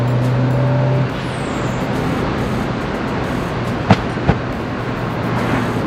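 A turbocharged Mazdaspeed Miata, top down, drives along under steady road and engine noise, then its exhaust gives two sharp, brief backfire pops a fraction of a second apart.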